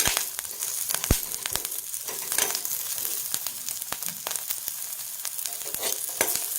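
Grated fresh coconut roasting in a pan for Kolhapuri misal, a continuous dry crackle and sizzle with scattered scraping stirs, close and fairly even throughout.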